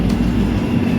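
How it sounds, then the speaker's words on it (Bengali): The Howrah–SMVT Bengaluru SF Express train rumbles loudly up close, a deep continuous roar of wheels and engine as it pulls away from a station, with no voices. "লেট হয়ে গেল ট্রেনটা এখন ছেড়ে দিল"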